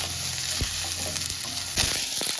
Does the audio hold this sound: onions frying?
yes